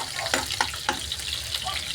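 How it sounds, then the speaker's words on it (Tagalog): Ginger sautés in a heated pan with a steady, fairly quiet sizzle, broken by a few light clicks and stirring knocks, for the dish sinampalukang manok. "Sangkot po natin ang ating luya."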